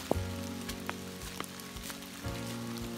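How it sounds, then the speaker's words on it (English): Steady patter of rain falling on a hiking trail on the Appalachian Trail, a dense hiss with occasional drips, while a low hum runs continuously underneath. "As you can see, it's raining."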